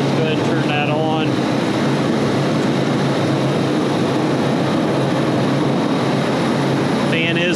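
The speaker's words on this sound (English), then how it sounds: "we're going to push the contactor in and see if that fan motor turns" A grocery freezer condenser fan motor runs loud and steady after its contactor is pushed in, a constant close roaring whoosh filling the space, with brief voice fragments near the start and end.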